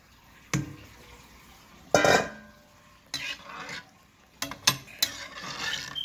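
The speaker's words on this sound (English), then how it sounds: "now I'm gonna go in with my coconut milk" Coconut milk is added to stewed fish in a pot. A few sharp clanks of a utensil against the pot come with pouring and stirring, loudest early on, then gentle bubbling.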